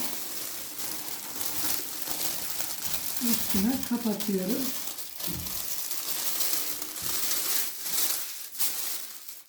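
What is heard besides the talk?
plastic bag or oilcloth rustling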